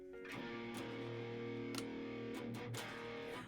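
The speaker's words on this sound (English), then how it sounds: "if you want to go to distortion, dirty rhythm, you turn these off in one shot" Electric guitar through a Line 6 POD Go on a dirty rhythm distortion tone, sustained overdriven chords ringing steadily at close range with a few brighter strums, heard alone.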